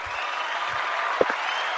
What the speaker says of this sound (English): Let me give you some applause